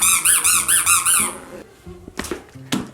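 A squeaky rat toy gives about six quick, shrill squeaks close up, followed by muffled handling noises and brief speech.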